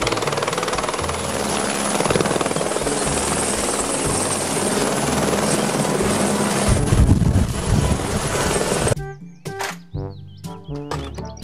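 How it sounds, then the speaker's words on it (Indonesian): A helicopter's rotor thumps and roars continuously, loud and close, before the sound cuts away to quieter scattered noises at the end. "Helikopter"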